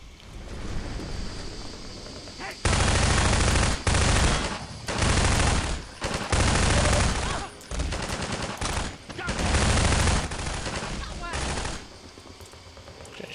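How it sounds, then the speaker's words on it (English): Heavy gunfire and shelling in Half-Life 2 come in loud, dense bursts of shots and explosions separated by short lulls, with a faint voice under parts of the din. "They're shelling the hell out of us."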